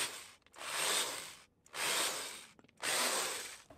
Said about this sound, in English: Get the drill bit and punch these pilots real quick.